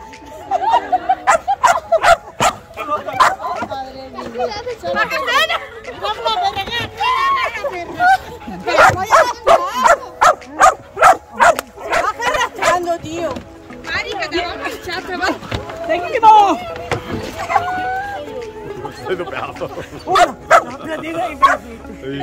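A dog barks and yips repeatedly in an outdoor park, the barks loud and close in irregular bursts, mixed with shouting voices and some whimpering.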